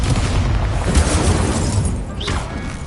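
A Confringo spell blast in Hogwarts Legacy gives a dense, loud booming burst that rolls on for a few seconds, followed by a rising whistling streak as it fades.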